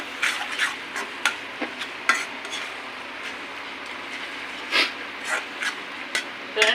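A spoon scrapes and stirs chili powder into softened, cooking tomatoes in a pan. The scrapes come in irregular short strokes, close and fairly quiet, and no one speaks.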